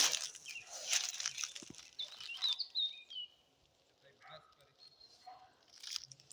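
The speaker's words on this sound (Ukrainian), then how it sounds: "Виспівують пташки." Several birds in a forest chirp and trill in quick, scattered phrases, fairly close and moderately loud at first, then sparser and quieter.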